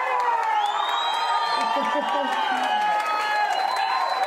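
Wedding guests at a reception break into warm applause and cheers for the newlywed couple's first dance, with whoops and crowd noise mixed over music playing throughout.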